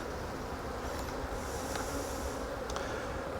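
Honey bees working the frames of a nucleus hive give off a continuous, fairly quiet buzzing hum, close and steady throughout, with no voices.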